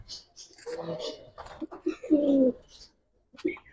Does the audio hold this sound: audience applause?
no